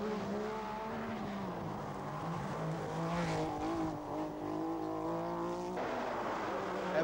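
A Rothmans Porsche 911 rally car races at speed, its engine note rising and falling steadily with harmonic whine, loud and continuous throughout with some tyre noise, a pitch shift near the end.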